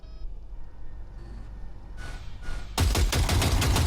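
Gunfire from the video game Cyberpunk 2077 at a target range, with a few muffled shots followed by a loud, rapid burst of repeated shots, close and alone.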